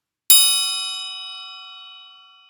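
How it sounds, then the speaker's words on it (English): A metal triangle is struck once and rings out alone with a bright, shimmering tone. The sound decays slowly and is still fading at the end. "But here's the ring sound from the triangle."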